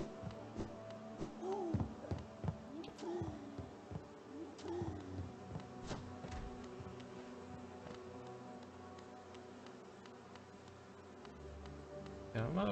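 Rapid ticking and buzzy bee effects from the video game Hollow Knight repeat in clusters, with short bright tones popping in over a steady busy background.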